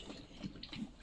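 An American Staffordshire terrier laps water from a bowl, soft wet slurps repeating unevenly at close range, faint and with no talking over them.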